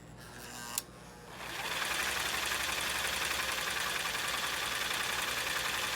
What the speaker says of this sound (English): I can hear the Chugger running, but I hear the motor more than I do the Chugger.